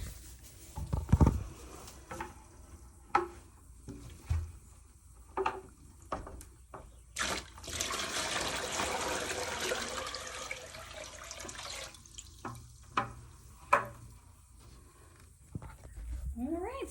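Groundwater from a hand pump is mixed and poured, with scattered splashes and clunks, then a steady stream of pouring and sloshing for several seconds. Quieter splashes and knocks follow.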